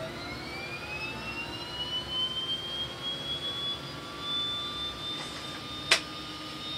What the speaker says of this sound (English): we're going to start the right hand engine